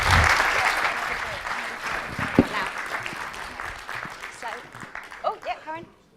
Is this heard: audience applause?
yes